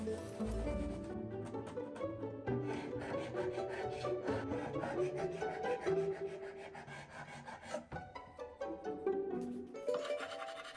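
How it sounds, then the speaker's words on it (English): A carbide scraper loosening dried glue and glitter glue on a wooden dresser: steady rasping and scraping on a hard surface, continuous and close, with short strokes and a few brief pauses near the end. "I used my carbide scraper to help loosen those up."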